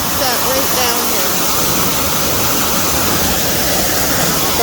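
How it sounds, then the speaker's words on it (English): A raging waterfall in a rainforest, heard from its base, pours as a loud, steady, dense roar with no break. "you can hear the waterfall just raging"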